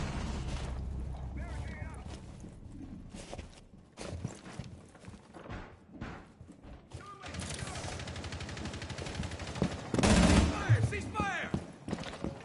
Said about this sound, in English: Who the fuck start shooting at me, bro?